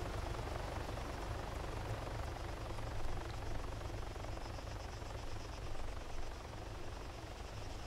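Helicopter in the video game ARMA 3 Altis Life, a continuous low rotor drone and engine rumble, steady and moderately loud throughout with no voices.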